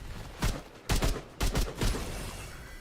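Gunfire from the Viking strategy game Northgard: several loud, sharp broadband bursts, two or three volleys spaced about half a second apart, over a steady low rumble with no talking.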